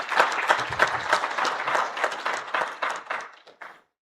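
Applause from a conference audience at an AFRINIC meeting, a sustained round of clapping from many hands filling the room before tapering off and stopping near the end.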